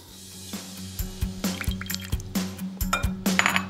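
Olive oil is poured for a flank steak marinade with balsamic and mustard, a close, wet trickle with small glassy clinks and knocks of a bottle or dish in a kitchen, with no talking.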